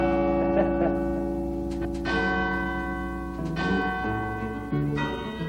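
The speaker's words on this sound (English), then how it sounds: "Here you can climb the tower and serenade the city by playing the bells." Church bells in the Shandon steeple of St. Anne's Church, played by hand, ring out a slow sequence of resonant tolls with long overlapping hums, loud and near.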